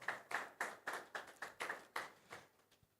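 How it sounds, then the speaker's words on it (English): Faint, sparse applause at the Falling Walls Lab Ghana 2025 conference: about ten distinct claps in an even rhythm from only a few hands, quiet and fading out within three seconds. "Please, a big round of applause for Elena Mensah."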